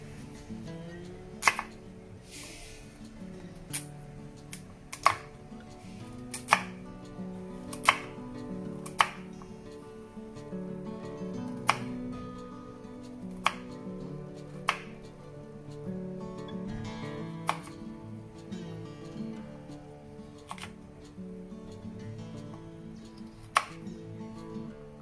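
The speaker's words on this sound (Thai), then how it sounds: "ทั้ง3อย่างนี้เราจะหั่นให้มันเป็นชิ้นใหญ่นิดนึงนะคะ" Knife chopping carrots into large chunks on a cutting board for a Korean soy-braised chicken stew, with sharp irregular thumps spaced a second or two apart over a soft background hum.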